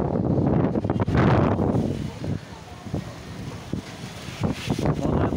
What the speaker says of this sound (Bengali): মনে হয় বারান্দা থেকে উঠাই নেবে এমন বাতাস।